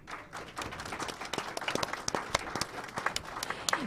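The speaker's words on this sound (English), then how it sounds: "a few of the audience would love to welcome them with an enthusiastic round of applause" An audience at an expo panel breaks into an enthusiastic round of applause to welcome the panelists, dense clapping with sharp individual claps standing out, fairly near and building slightly toward the end.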